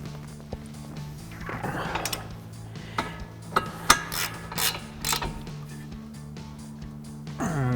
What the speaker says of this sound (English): I'm gonna take my 15 millimeter on my 1/2-inch ratchet here,